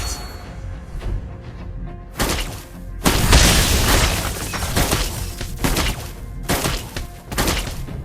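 Heavy game combat impacts in Mobile Legends as a turret is destroyed: a series of loud booming crashes and thuds, with bursts near 2, 3, 5 and 7 seconds over a constant layered backdrop of effects.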